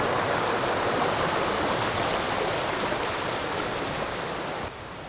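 A little brook in Cragg Vale near Mytholmroyd, an old mill stream, flows and rushes steadily and loudly close by, a continuous broad watery roar that eases slightly at the end.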